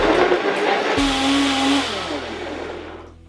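A blender whirs up loudly with a rising motor whine as it purees kale tahini pasta sauce with pasta water, then runs steadily and gradually fades.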